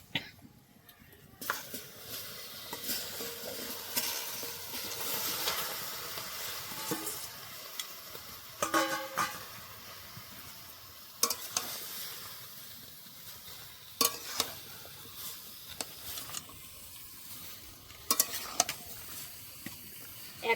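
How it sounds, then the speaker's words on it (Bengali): Two kilos of chopped tomatoes being stirred in a pan for homemade tomato ketchup, with a soft ongoing sizzle, wet scraping and splashes, and sharper clatters of the spoon against the pan recurring every few seconds. "এবার কুচানো টমেটোগুলো দিয়ে দেব।"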